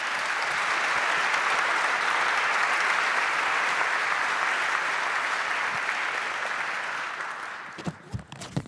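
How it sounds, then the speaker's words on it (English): Audience at an annual conference gives a big round of applause for the participating panel members, a dense, steady wash of clapping that holds for several seconds before fading and breaking into a few scattered claps near the end. "I will ask the audience for a big round of clap, for the participating members"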